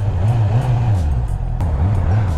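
A motorcycle engine throbs close by with a rhythmic, pulsing low rumble that rises and falls every few tenths of a second.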